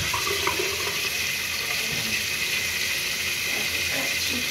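Water runs steadily from a bathroom sink faucet for rinsing after toothbrushing, a continuous close hiss and splash that holds at an even level throughout with no talking.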